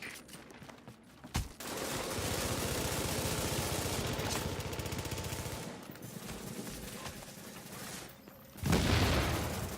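Sustained automatic gunfire pounds a fortification during a Dark Zone, Skirmish or Last Stand match in The Division 2, a dense continuous barrage broken by brief pauses, with a heavy burst near the end.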